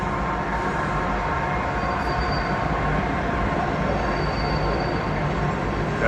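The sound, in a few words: train passing near trail shelter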